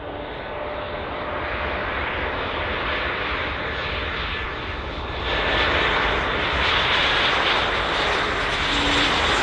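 A KLM airliner landing on runway 09 at Bristol Airport in a gusty crosswind gives a loud, continuous engine roar that grows louder about halfway through, with wind noise blended in.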